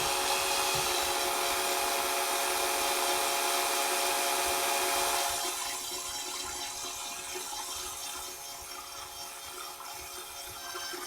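A drill bit bores through material without lubricant, a steady dense grinding whir that runs alone and drops slightly in pitch and loudness midway before continuing to the end.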